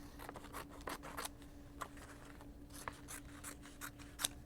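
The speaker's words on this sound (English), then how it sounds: "you can cut off some of the excess edges here" Scissors trimming the excess edges off a freshly cut vinyl decal, a faint, close series of irregular snips and soft rustles of the sheet over a low steady hum.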